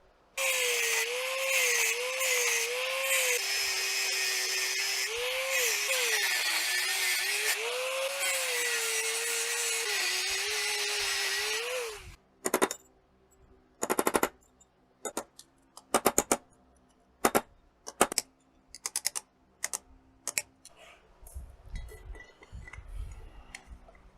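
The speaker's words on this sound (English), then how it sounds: "I'm going to cut it with a die grinder, and then I'll have to just get another nut." A die grinder cuts a nut off a Harley-Davidson transmission shaft. It gives a loud, sustained high whine for about twelve seconds, its pitch wavering under load, then a series of short, sharp bursts separated by silence.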